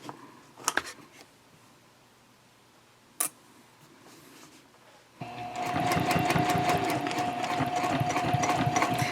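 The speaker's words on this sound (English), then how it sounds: "I'm going to start sewing around" A sewing machine starts up after a few faint clicks and runs steadily, stitching around a tote bag an eighth of an inch from the folded edge near a side seam; the motor hum and rapid needle ticking are close and continuous.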